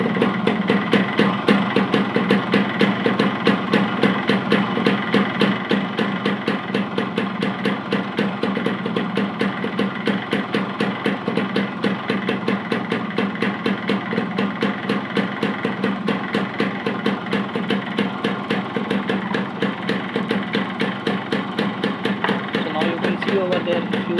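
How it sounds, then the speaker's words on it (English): A two-stroke motorcycle with an Autolube oil pump idles steadily nearby, its fast, even engine pulses continuing without a break and no voices over it. "Started the motorcycle, and now I will bleed out the air from the air bleeder screw."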